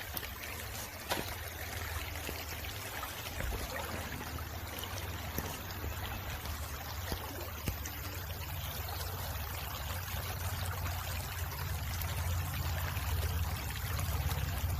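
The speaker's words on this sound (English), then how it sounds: "Let's take a look at the river here." The shallow Medina River flows steadily with a soft, continuous rushing and trickling wash, heard alone at moderate distance under shade trees at an RV park.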